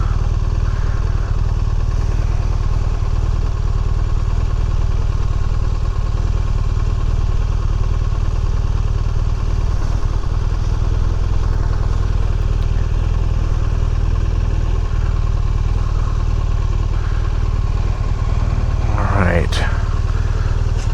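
A BMW R1200RT motorcycle cruises with a steady low engine drone and heavy wind rush throughout, a brief rising whine near the end; the rider talks intermittently under the noise.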